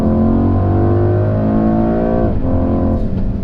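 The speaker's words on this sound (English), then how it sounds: "that engine around town blowing your face off is blowing your face off at highway speeds" A 2021 Mercedes-AMG GLE 63 S accelerates hard on the highway, its engine note climbing in a loud, steady rising drone through the gears, with a brief shift dip partway through and no talking.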